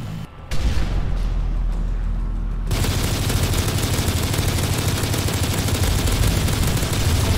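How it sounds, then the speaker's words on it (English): A sentry gun fires in Modern Warfare 3 Survival mode on the Carbon map, a dense, loud, unbroken burst of rapid gunfire that cuts in suddenly after a softer opening and keeps up without pause. "Ooh, the sentry gun didn't do any damage,"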